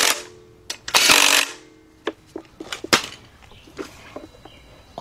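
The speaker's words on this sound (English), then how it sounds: "let's tighten these bolts up" A socket wrench with a 12 mm deep socket tightens engine bolts on a 2006 Kia Sportage 2.7, giving a short burst of ratcheting followed by scattered metallic clicks and clanks close by.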